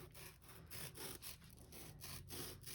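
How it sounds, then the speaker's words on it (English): A foam arrowhead base trimmed all the way around, giving a faint, steady run of rhythmic rasping strokes, about five or six close together with no talk. "I'll just be trimming off just a little bit here at the base, all the way around"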